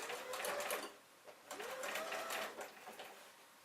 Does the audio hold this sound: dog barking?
no